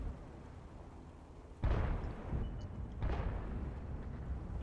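An M48 tank gun firing in World of Tanks, two heavy booming blasts about a second and a half apart, each with a rumbling decay, loud and close against quiet background.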